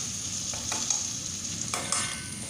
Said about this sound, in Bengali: ভালো করে নেড়ে চেড়ে এটাকে কষাবো, একটু সময় ধরে কষাবো।